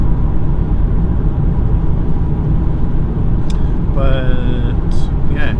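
Steady low rumble of a car interior at a cruise of around 90 km/h, engine and road noise droning evenly throughout, with a few brief higher chirps and tones toward the end.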